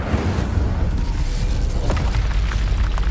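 A loud, roaring fire blast from the Incendio spell in Hogwarts Legacy, a dense rumbling burst that keeps going for the whole few seconds with crackling pops on top.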